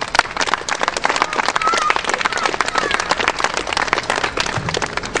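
A crowd at an outdoor election rally gives loud, sustained applause, with dense clapping that stays steady throughout.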